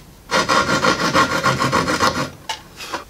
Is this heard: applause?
no